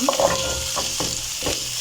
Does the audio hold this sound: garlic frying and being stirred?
yes